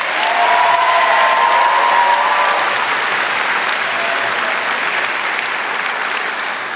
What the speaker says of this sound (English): A special round of applause for Hannah Ellman and Whitney Heiss